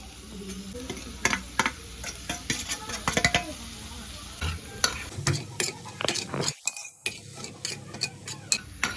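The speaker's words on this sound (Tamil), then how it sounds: "இப்ப இந்த பன்னீர் கூட கரம் மசாலா, அப்புறம் சில்லி பவுடரு, சால்ட், இதெல்லாம் ஒன்னா கொட்டிட்டு நம்ம கிளறி விட்டுடலாம்." Paneer tossed with garam masala, chilli powder and salt is stirred in a frying pan, giving a steady run of close spoon scrapes and metallic clinks against the pan over a low sizzle.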